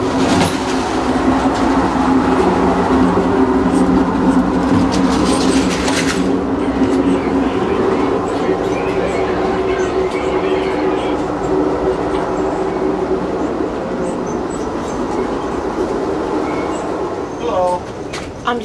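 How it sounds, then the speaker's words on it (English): Steady rumble and rattle inside a moving Amtrak passenger train, loud and continuous with rail clatter and a brief wheel squeal near the end, while people talk in the background. "I'm taking a video of the train"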